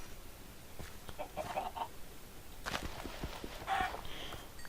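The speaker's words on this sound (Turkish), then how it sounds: "Tavuk." Faint clucking of a Minecraft chicken with a few short, bright calls over quiet ambient noise and soft footstep-like taps.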